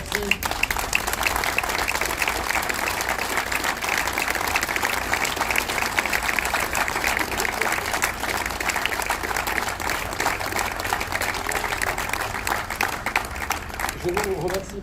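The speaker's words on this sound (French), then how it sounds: "Je vous remercie pour ces applaudissements" Townspeople applaud at a civic tribute to Samuel Paty, a long, even stretch of crowd clapping at moderate level lasting around fifteen seconds, with a voice faintly present beneath it.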